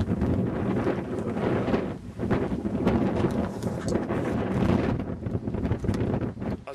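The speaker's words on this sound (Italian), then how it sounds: "qui è ventoso" Strong outdoor wind buffets the microphone in a loud, continuous roar with gusting surges and rumbling low end, no voices heard.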